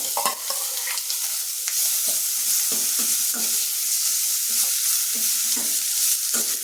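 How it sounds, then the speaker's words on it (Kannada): Chopped medium onion hits hot oil with a little asafoetida in a pan for bisi bele bath, a steady loud sizzle broken by intermittent scraping stirs, with no voices. "ಅಷ್ಟನ್ನು ಹಾಕಿಬಿಟ್ಟು ಒಂದು ಕಟ್ ಮಾಡಿರೋ ಈರುಳ್ಳಿನ ಹಾಕ್ತಾಯಿದ್ದೀನಿ"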